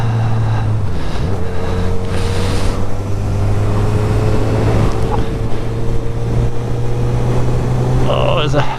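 A motorcycle engine drones steadily with a low throbbing tone, buried under heavy wind rush as the bike rides along.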